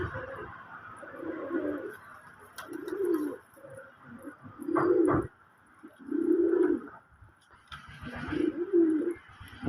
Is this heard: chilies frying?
no